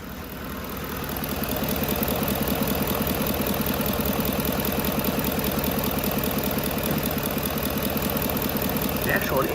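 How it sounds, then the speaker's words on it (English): A car engine idles steadily after a repair, a continuous close rumble with a slightly uneven, shaky pulse throughout. "Let's take a listen to the engine."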